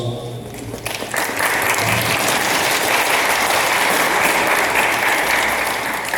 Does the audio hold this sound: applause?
yes